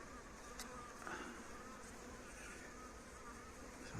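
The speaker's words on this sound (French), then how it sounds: "il y a une petite abeille dans la bouteille" A small bee is trapped inside a Coca-Cola bottle near an apiary, giving a faint, steady buzzing hum against quiet outdoor background noise.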